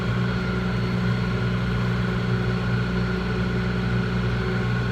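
A tractor engine runs in low third gear while pulling a rotary hay rake, producing a constant, even mechanical drone with no change in pace.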